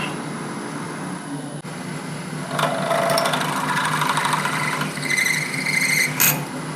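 A drill whines up and bites into brass with a number 1 bit, a rising high-pitched grinding squeal lasting several seconds over a steady machine hum.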